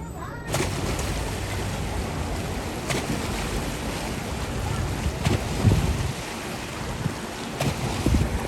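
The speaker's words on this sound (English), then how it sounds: "out here is actually a wave pool to simulate real waves" Waves in the wave pool at SeaWorld Orlando wash and surge continuously, half buried under heavy wind buffeting on the microphone, with a few louder surges and faint voices in the background.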